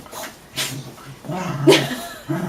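Dogs whimper and yip in short bursts during a family photo shoot, the soft whines rising and falling in close range between quiet gaps.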